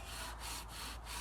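Wooden bow drill spinning hard against a wooden baseboard while cooking an ember, a quiet rhythmic rasping friction with back-and-forth strokes about every third of a second, close by and without speech.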